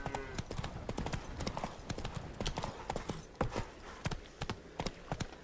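Roach, the horse in The Witcher 3, trots along with a steady clip-clop of hooves, rhythmic and close, each hoof strike crisp, with scattered louder beats and a faint background bed.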